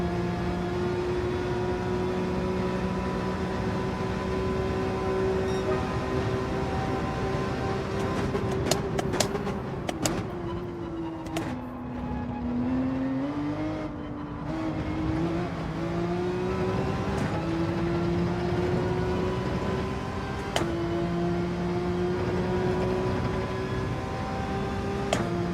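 Gr.3 race car engines, including a Ferrari, drone steadily in Gran Turismo 7, a loud continuous whine that dips and rises with gear shifts and occasional sharp clicks.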